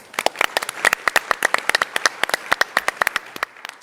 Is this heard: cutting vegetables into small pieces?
no